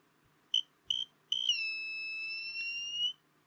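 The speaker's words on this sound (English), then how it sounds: "yep, we get the buzzer. Oh, it latches." Electronic buzzer in a hobby test circuit with a potentiometer set to middle: three short chirps, then a latched steady high-pitched tone that holds for about a second and a half before stopping, fairly quiet with no voices.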